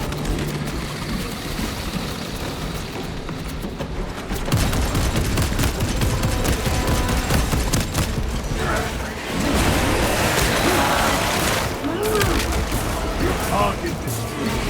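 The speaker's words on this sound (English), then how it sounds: "There they are. The orbital guns." Orbital guns firing in Warhammer 40,000: Space Marine II: a dense, continuous roar of heavy barrage that swells louder partway through and keeps rumbling without pause, with voices partly masked beneath it.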